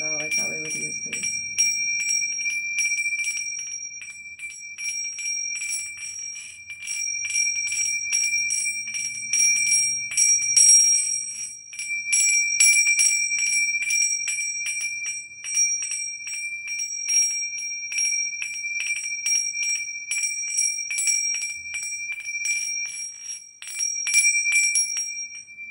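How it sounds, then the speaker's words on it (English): Tibetan chimes ring out with a bright, sustained metallic shimmer that decays slowly and is struck again, faint overall with a brief low murmur beneath. "I purchased these Tibetan chimes. So I thought we would use these."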